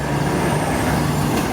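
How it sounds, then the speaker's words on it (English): A truck's engine rumbles loudly and steadily close by on Sauchiehall Street, Glasgow, a dense low roar filling the moment with no pauses. "Oh, look at that, truck spotting."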